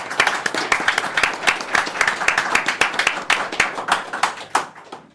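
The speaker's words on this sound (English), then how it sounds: "huge applause for Freedom of Press Foundation" An audience at the Qubes OS Summit 2024 conference applauds a sponsor: dense, steady clapping from many hands that fills the room and tapers slightly near the end.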